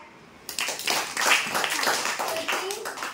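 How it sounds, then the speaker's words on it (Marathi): A group breaks into applause during a hands-on demonstration of making green pouches for seed germination, dense quick claps starting abruptly and continuing close and loud, with voices mixed in. "त्याच्यासाठी टाळ्या"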